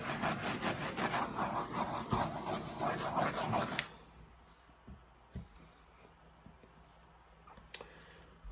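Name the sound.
torch flame hissing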